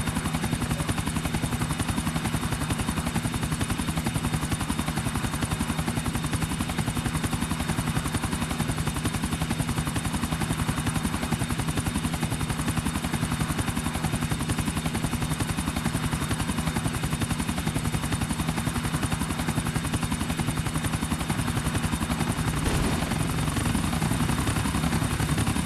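A helicopter flies in a Grand Theft Auto-style video game during a race broadcast. Its loud, close rotor chop pulses rapidly and steadily under an engine whine, continuous and with no talking.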